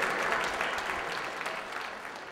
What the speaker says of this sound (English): So a big round of applause for the artists.